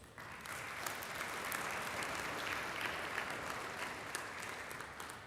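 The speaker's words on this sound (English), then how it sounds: "presentation from Mr. Frederick Slabbert deserves a massive round of applause." An audience at an engineering symposium applauds after a presentation, with dense, even clapping from a large crowd that holds steady for about five seconds at a moderate distance and has no voices over it.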